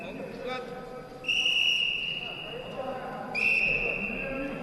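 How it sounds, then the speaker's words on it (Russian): A referee's whistle at a junior freestyle wrestling tournament sounds twice as sharp sustained shrill blasts, one longer then a shorter one, over a hall murmur while a commentator speaks. "Да, звучит свисток."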